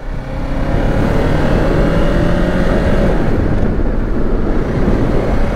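A 2024 Kawasaki Ninja 500 KRS SE ABS motorcycle rides on an evening street, its engine a steady close drone under strong wind rush that holds throughout with little change in pitch.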